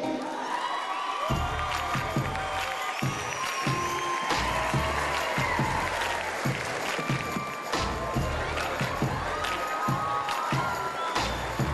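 Crowd cheering and clapping at a prom grand march as couples are announced, a busy mix of applause, whoops and shouts filling the room steadily throughout, with scattered voices in the mix.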